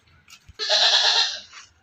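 A Barbari goat on a goat farm in Aurangabad, Maharashtra gives one loud, close, wavering bleat lasting about a second, preceded by brief faint rustles and followed by quiet.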